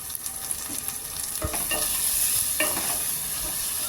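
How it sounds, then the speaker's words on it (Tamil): Ginger garlic paste sautés in a hot pan for country chicken biryani, a continuous close sizzle broken by a few sharp scrapes and knocks of stirring, with no voices. "நல்லா வதக்கலாம் போட்டுக்கலாம் நல்லா வதக்கலாங்க"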